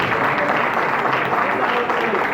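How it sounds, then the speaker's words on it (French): At a political party gathering, an audience applauds the party president, an agronomist, with dense continuous clapping that stays loud and even throughout, with voices mixed in. "Continue d'applaudir, s'il vous plaît, le président du parti, agronome Fico Lafleur."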